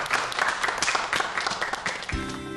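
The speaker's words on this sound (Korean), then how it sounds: "오늘 좋은 강의 해주신 교수님께 박수 부탁드립니다" A lecture audience applauds a professor briefly, with moderate, steady clapping that stops abruptly near the end.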